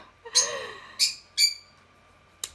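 A pet bird at home lets out a few loud, shrill squawking calls close by: three strong cries spaced apart, then a brief final chirp.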